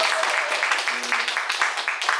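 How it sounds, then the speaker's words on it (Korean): An audience claps together in a steady, dense patter of applause, with a voice faintly audible underneath. "더 큰 박수 한번 부탁드릴게요."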